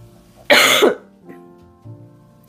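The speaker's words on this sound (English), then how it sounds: "excuse me for my occasional cough." A single loud, harsh cough bursts out close by, followed by quiet room tone and faint murmuring.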